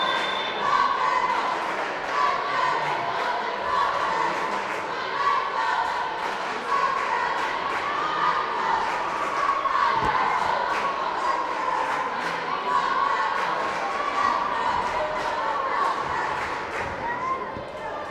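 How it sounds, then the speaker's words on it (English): A crowd at a close boys' high school basketball game between Boise City and Beaver roars in a loud, sustained swell of cheering and shouting that carries through the whole stretch, with voices talking over it. "Crowd's getting into it as this one is going down to the wire."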